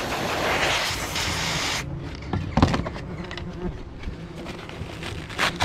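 A steady, close wasp buzz near its nest fills the first seconds, then fades into rustling, brushing noises and scattered clicks.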